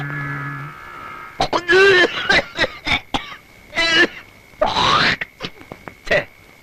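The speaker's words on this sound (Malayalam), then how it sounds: "കുത്തി കുത്തി ഒരു ചുമ എങ്ങനെയാ മാറണേ?" An elderly man's harsh, hacking cough comes in several loud, ragged bursts at close range, broken by throat-clearing and strained groans, with a voice also present.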